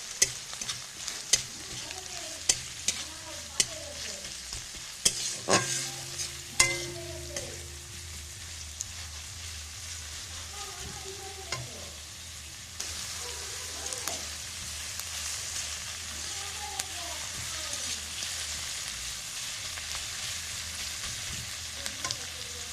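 Onions frying in a little oil in a pan, a steady soft sizzle with occasional stirring scrapes and clinks, close and continuous with no talking.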